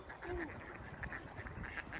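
Geese honk in a loose, scattered chorus over steady outdoor noise, the calls moderately close and overlapping.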